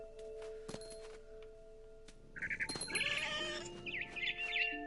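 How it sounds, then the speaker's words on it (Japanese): A cat in a video game meows and yowls in drawn-out cries over steady background music and ambient tones, with no talk during the clip. "泣いとるで、猫。"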